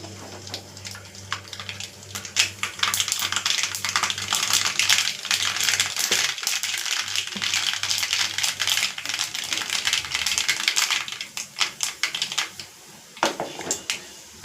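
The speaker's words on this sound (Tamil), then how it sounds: "கடுகு பொரிஞ்ச உடனே நல்லா கடுகு பொரிஞ்சு வரட்டும்." Mustard seeds spluttering in hot oil in a home kitchen, a dense run of sharp crackling pops that keeps going for most of the stretch and thins out toward the end, close and loud, with no talking over it.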